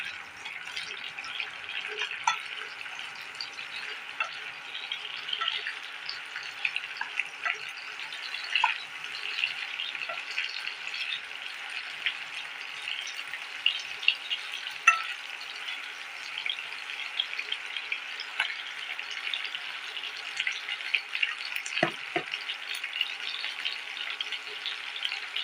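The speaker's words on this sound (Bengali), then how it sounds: "তেলে পেঁয়াজটা আমি হালকা করে নেড়ে নিলাম" Onions frying in oil in a pan for a chicken curry, a soft, continuous hiss and crackle with occasional light scrapes and clicks of stirring, fairly quiet and unbroken.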